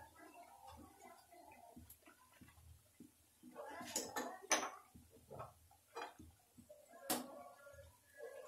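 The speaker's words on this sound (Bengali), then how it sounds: "তো এবার আমি পাকোড়াগুলো উঠিয়ে নিচ্ছি।" Fried spinach pakoras being lifted from hot oil in a pan into a basket lined with kitchen tissue, soft scattered clinks and scrapes of a utensil against the pan with faint sizzling, several sharper metallic taps near the middle.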